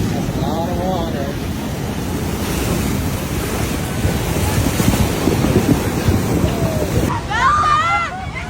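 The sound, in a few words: large ocean waves surging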